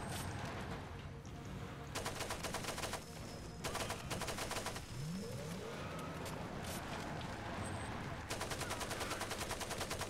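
Bursts of rapid automatic gunfire in the shooter game Far Cry 2, loud and close, come in several long volleys with short gaps, over a steady engine-like rumble and with no talking.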